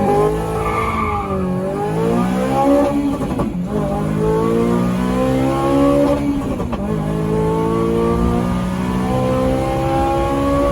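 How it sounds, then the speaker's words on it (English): Honda Civic Type R FN2 running a crackle map, revving hard on launch control: loud, close engine note sweeping up and down in repeated rising pulls with a raspy, crackly edge throughout. "Let's test the launch control, Richard."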